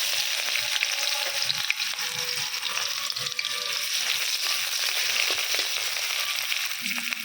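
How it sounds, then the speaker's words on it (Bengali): Ivy gourd and onions fry in hot oil: a steady, dense crackling sizzle fills the whole stretch, close and fairly loud, with faint scattered clinks and stirring beneath it and no voices. "কুন্দি ভাজা ভাজা করবো।"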